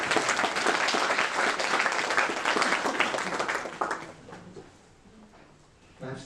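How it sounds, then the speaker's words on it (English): Conference audience applauding a speaker at a SafeAge event, a dense burst of clapping that holds steady, then fades out over the last couple of seconds. "Applause for Valerie"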